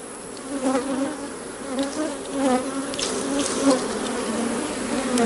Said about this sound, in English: Shake the bees off of it.